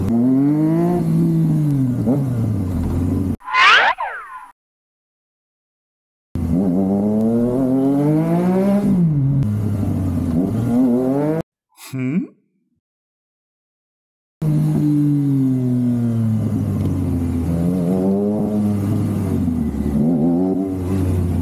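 A Honda Dream motorcycle engine drones and rises and falls through the gears while riding in traffic, with repeated revving sweeps, loud and close, broken by two brief gaps.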